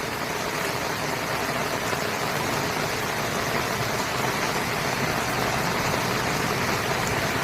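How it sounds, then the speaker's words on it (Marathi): Heavy monsoon rain pours steadily over a mango orchard, a dense unbroken broadband roar with no breaks or voices, loud and constant from start to finish. "भरपूर पाऊस आहे, भरपूर."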